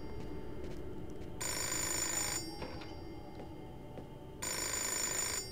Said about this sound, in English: I just need to answer the telephone.